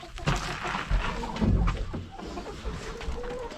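Chickens cluck and call inside a shed converted into a chicken coop on a small farm on a snowy day, a busy cluster of close, overlapping bird sounds with faint rustling underneath.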